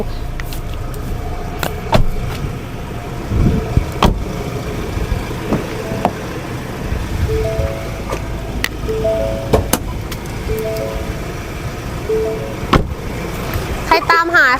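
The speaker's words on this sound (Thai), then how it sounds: "หนูเปิดเครื่องยนต์ให้ดู" A 2020 Ford Everest Titanium 4x4 idles with a low, steady engine hum, heard under someone talking, with scattered clicks and knocks around the cabin.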